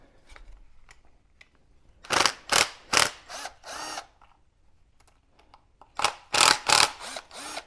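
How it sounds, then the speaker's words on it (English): A power screwdriver backs out three screws from the top of a DJI Agras T40 drone spray boom, with two clusters of short close whirring bursts separated by quieter handling noises. "now we're going to want to take these 3 screws out on the top"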